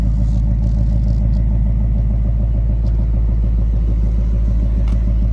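A 2023 Ford Mustang GT with a 5.0-liter V8 and active valve quad-tip exhaust idles steadily, a loud, close, deep burbling rumble holding even throughout with no speech.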